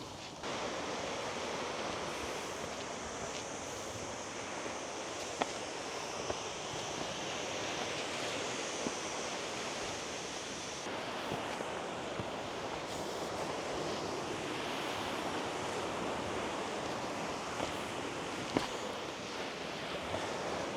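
Sea waves surge and roar steadily inside a sea cave, a dense continuous wash of surf with gusts of wind noise and occasional sharper splashes, no voices present.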